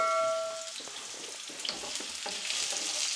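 Chopped onions fry in a warmed pan over medium heat with a continuous crackling sizzle and some stirring, close and fairly loud, with no speech.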